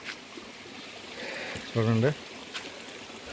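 A small hillside water stream trickles and gurgles steadily nearby on a mountain path near a tribal village, a soft continuous flow with someone speaking briefly over it.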